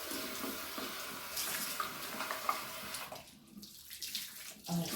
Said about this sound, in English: I'm cleaning my rag out with hot water.